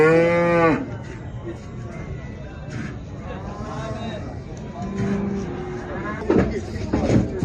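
Calves at a livestock market moo loudly, one long call at the start and more lowing later, amid crowd chatter and someone talking.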